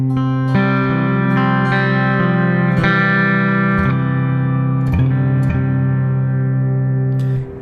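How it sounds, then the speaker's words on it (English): Electric guitar played through an amp, cabinet and reverb in Ableton Live, several sustained chords picked in turn, each ringing out with a long reverb tail before the next strum. "that should create a very basic electric guitar sound"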